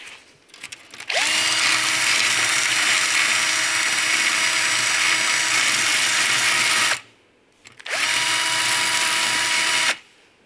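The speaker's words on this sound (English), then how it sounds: "Good old wire brush and a drill." A power drill with a wire brush whines loudly as it scrubs paint off car body metal on a Talbot Sunbeam Lotus, running in two long bursts separated by a brief pause.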